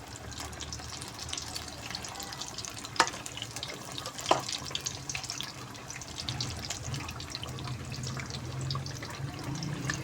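Potato pakoras bubble away in deep oil with a continuous, close, watery crackle, broken by two sharp clicks near the middle as the pieces are turned.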